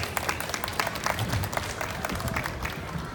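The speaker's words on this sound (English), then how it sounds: "Give them a little round of applause" Applause from a small group watching a self-defense demonstration, a brief round of close, distinct hand claps with some crowd noise.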